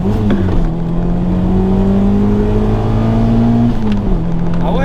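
A Peugeot 106 XSI hot hatch engine pulls hard under acceleration, a loud, steady droning note climbing in pitch from inside the car, with no voices over it.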